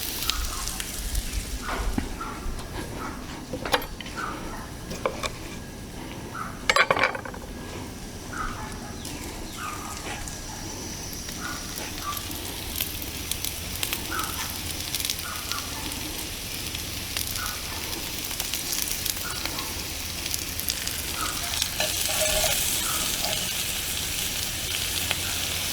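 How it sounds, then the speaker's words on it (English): Butter sizzling in a hot pan, ready for searing venison steaks, with potatoes browning nearby: a steady, loud, close frying hiss that continues the whole time, with a sharper knock or clatter partway through. "Let's get some butter in there."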